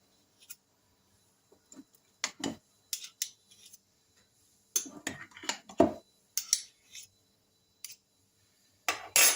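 Scattered scraping and clinking of a spoon against a bowl while stirring a mushroom filling with sour cream, in irregular bursts separated by quiet pauses, close by.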